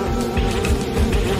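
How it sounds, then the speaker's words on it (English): A dense swarm of bees buzzing loudly and close, a steady droning hum with no break. "all the bees are on him"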